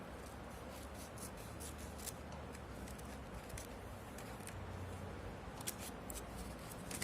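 Scissors cutting paper or waste material in a craft project, a series of quick crisp snips in bursts over faint background hiss.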